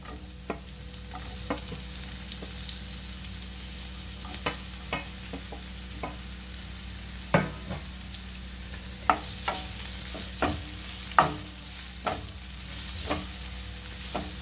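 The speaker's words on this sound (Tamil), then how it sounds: "இப்போது கட் பண்ணி வச்சுருக்க வெங்காயத்தை சாட்டே பண்ணிப்போம்" Chopped onions with green chillies sauté in a pan, a steady low sizzle under repeated spoon scrapes and taps against the metal, irregular and fairly close, with no talking.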